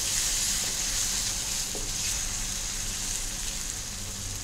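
Egg curry with yogurt sizzling steadily in a pan while being stirred, a continuous hiss with faint scraping, close and fairly loud, no voices.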